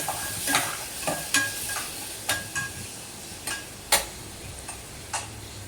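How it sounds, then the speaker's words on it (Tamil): Spices with turmeric sauté in a pan as a spoon stirs, scraping the metal in repeated, uneven strokes over a soft, continuous sizzle, close and moderately quiet. "ஸோ மஞ்சத்தூள் ஆட் பண்ணதுக்கப்புறமா மறுபடியும் ஒரு சாட்டே பண்ணிக்கோங்க"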